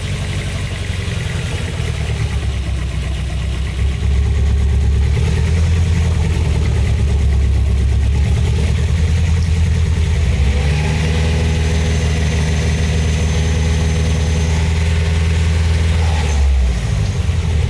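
Nissan Silvia S14 with SR20DET engine fitted with a new turbo, idling cold at a high idle, a loud steady close-up engine drone with a slight shift in pitch partway through, no voices.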